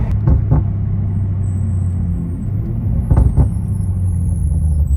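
Toyota Supra with a tuned transmission, heard from inside as a loud, steady low engine rumble with brief surges and a couple of sharp jolts like quick gear shifts, a faint whine above, no talk.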